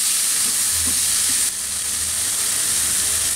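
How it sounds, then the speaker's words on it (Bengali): Tomatoes and green chilies fry over high heat in a pan, giving a steady loud sizzle with soft scraping stirs, close up and with no talking. "এখন এইটাকে একটু নেড়ে অল্প একটু ভেজে নিব, যাতে টমেটোটা গলে না যায় কিন্তু একটু নরম হয়। আমি কিন্তু হাই হিটেই ভাজতেছি।"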